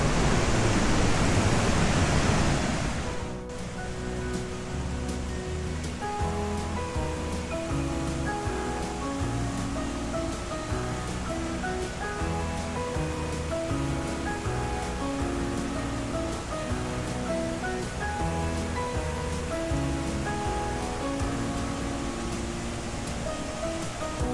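A roaring rush of falling water fills the first few seconds, then cuts away as steady instrumental music takes over for the rest.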